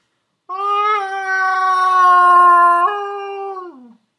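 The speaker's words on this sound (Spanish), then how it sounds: "sonaba como una ballena herida, como un animal de otro mundo, agonizando" An eerie, drawn-out howl like a wounded whale rises, holds steady for a few seconds, steps up in pitch, then sags and fades, loud, tonal and alone in silence.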